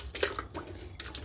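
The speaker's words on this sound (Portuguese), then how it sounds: "vamos colocar com a aguinha que vem junto ali tudo, o nosso pêssego aqui dentro do liquidificador" Canned peaches and their syrup pour into a blender, giving a close, uneven series of splashes and wet plops over about a second.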